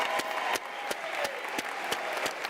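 A graduation ceremony crowd applauds diploma graduates at a university, with a sustained roomy wash of clapping marked by a few sharp, louder individual claps standing out at a fairly regular pace.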